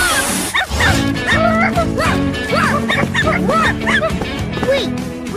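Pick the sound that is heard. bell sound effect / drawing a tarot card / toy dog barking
toy dog barking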